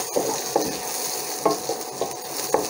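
Spoon scraping and stirring in a pan of sizzling sprouted moong masala, a steady hiss broken by several soft clinks and scrapes at an uneven pace, close by, with no talking.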